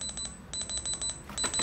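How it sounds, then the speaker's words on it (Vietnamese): A desk clock with a wall projection light sounds its alarm in short, bright beeps grouped in quick bursts of four, repeating with brief pauses, close and clear. "Đấy, nó kêu bíp bíp như thế thôi."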